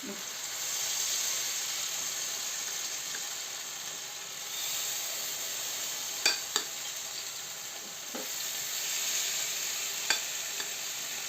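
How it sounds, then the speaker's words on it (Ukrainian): Steady oil sizzle and crackle from zucchini fritter batter frying in a pan, with a few sharp clicks of a spoon or utensil against the pan. "І будемо смажити наші деруни кабачкові"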